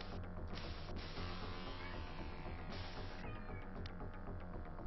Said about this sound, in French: Qu'est-ce qu'il a, le chat?